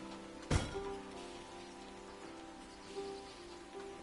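Steady rain falls in the winemaking game Hundred Days, a continuous hiss with a soft thump near the start and faint background tones throughout.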